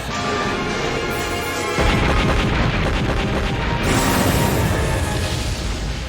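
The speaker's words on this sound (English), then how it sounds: "They're firing physical cannon shells!" Cannon shells fire in the Super Robot Wars V video game, a loud sustained booming barrage with a heavy low-end surge partway through and dense continuous blasts.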